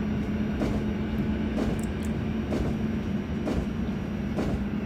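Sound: EN57 electric train accelerating, MaSzyna train simulator video game

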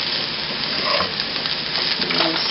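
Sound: rice being gently stirred in a pot

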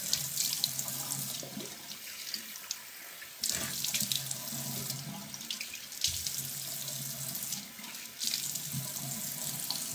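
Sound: rinsing a brush and face with running tap water

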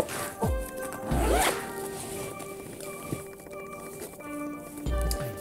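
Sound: zipping up a Skip Hop diaper bag changing pad

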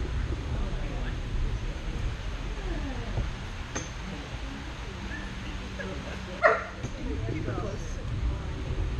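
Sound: dog barking during obedience training

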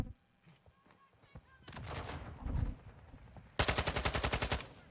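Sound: gunfire in a video game

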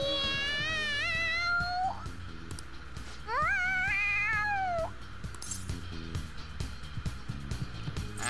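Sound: cat meowing excitedly, from video game Persona 5 Royal

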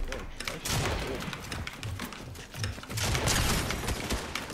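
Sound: gunfire in a video game

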